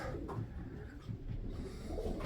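Faint, low cooing of a pigeon, soft and close, repeating softly over a quiet indoor background.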